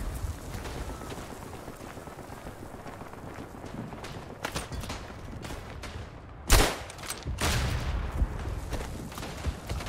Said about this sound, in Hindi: शॉट डालूंगा।